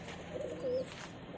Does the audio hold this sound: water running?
no